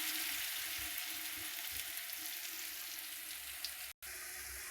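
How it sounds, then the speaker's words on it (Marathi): Ingredients stir-fried in hot oil in a pan over a gas flame, a steady, close sizzle with faint scraping stirs underneath; it runs continuously and cuts out for a moment near the end. "तुम्ही बघू शकता तेलात असं परतायचं बघा."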